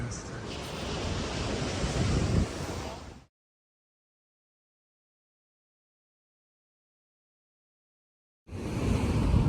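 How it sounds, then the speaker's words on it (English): Ocean waves wash onto a Santa Barbara County shore in a loud, broad roar that cuts off into several seconds of complete silence before the surf sound returns. "Just listen to the waves crash along."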